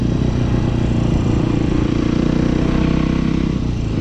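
A motorcycle engine idles close by, a steady loud throbbing with an even mechanical rhythm that holds without pause for the whole few seconds, with no talk over it.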